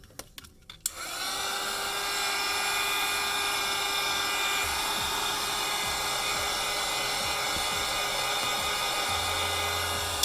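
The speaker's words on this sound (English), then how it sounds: "I think I'm going to apply a little more heat to the top of this to make that glue a little softer" A heat gun softens the glass adhesive on a Galaxy Tab A 8.0 tablet. A few faint handling knocks come first, then the gun roars on with a loud, steady, close whine and hiss that holds unbroken to the end.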